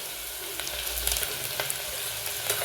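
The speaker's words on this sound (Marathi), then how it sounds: "त्यात थोडं मीठ घालायचं कांद्यामध्ये, म्हणजे कांदा पटकन तळला जातो।" Onions fry for chicken biryani in a pan with a little salt, giving a steady close sizzle with small pops and occasional stirring scrapes, with no voices.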